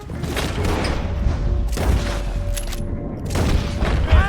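Gunfire in the video game Red Dead Redemption 2: several heavy, booming shots spaced a couple of seconds apart over a dense rumbling battle backdrop, with faint shouting voices mixed in.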